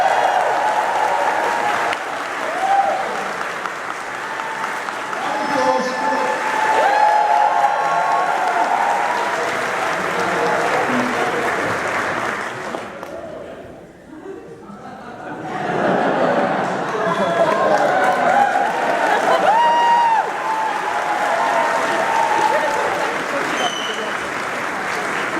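A convention crowd at the AmeCon 2018 anime event closing ceremony breaks into prolonged applause with chuckles and chatter mixed in. It briefly dies away midway, then swells again.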